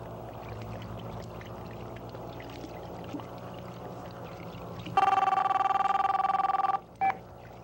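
A telephone rings with a loud electronic trill lasting about two seconds, followed by a brief second burst, over faint background noise.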